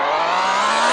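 A video game car engine holds a high, strained rev that climbs slightly in pitch across one second, loud and close with no voices.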